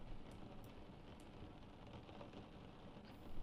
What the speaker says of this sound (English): Can you hear the rain?